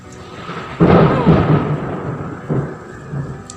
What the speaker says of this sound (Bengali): মুসুলধারায় বৃষ্টি হচ্ছে